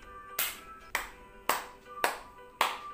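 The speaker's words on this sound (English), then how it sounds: "Now the last but not the least, heart clap." Hands clapping while shaped into a heart, five sharp, fairly quiet claps at a steady moderate pace, each with a short dull slap and no talking over them.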